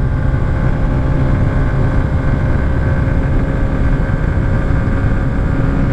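A 2021 Honda CB125F motorcycle engine held at speed, a steady dense droning hum with a strong low rumble and buzzy overtones, mixed with wind roar, constant and loud throughout.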